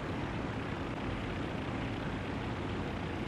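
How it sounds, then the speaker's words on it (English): Steady droning roar of a Condor maritime reconnaissance aircraft's engines over the North Atlantic in IL-2 1946, a continuous broadband propeller hum, even and unbroken, with no other sounds. "a Condor maritime reconnaissance aircraft locates a British escort carrier"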